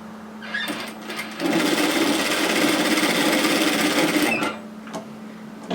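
A sewing machine stitches knit fabric in one steady, close run of rapid mechanical whirring lasting about three seconds, with quieter handling noises before and after.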